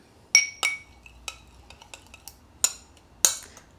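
A utensil clinks against a bowl while stirring a stiff honey mixture, a handful of sharp, bright taps at irregular intervals with faint scraping between, close and fairly quiet.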